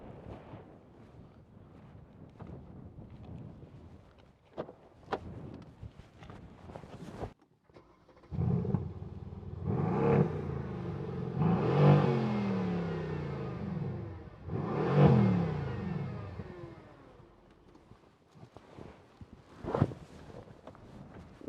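A 2016 Mercedes-Benz C63 AMG 4.0 V8 biturbo engine rumbles and revs hard several times, deep throaty roars rising and falling close by, with wind buffeting the microphone.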